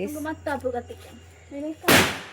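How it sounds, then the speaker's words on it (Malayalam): Talk first, then a single sharp, loud firecracker bang near the end, its burst ringing out briefly before fading, at a church feast. "പടക്കം പൊട്ടിക്കാണ്"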